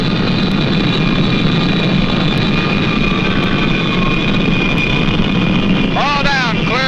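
A jet aircraft approaches to land on the carrier USS Forrestal, its loud, steady engine roar and whine filling the scene, with a brief warbling radio sound near the end.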